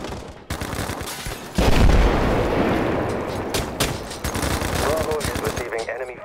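Rapid automatic gunfire rattles in the mobile shooter Battlefield Mobile, with a heavy boom partway through and bursts of shots continuing close and loud, and a voice can be heard under the battle noise.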